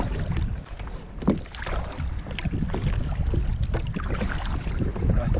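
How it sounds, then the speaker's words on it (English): Kayak paddled south into a strong headwind off the Hebrides near Eriskay and South Uist, steady roaring wind buffeting the microphone with faint water splashes and paddle strokes underneath, continuous and close. "Paddling south into the wind."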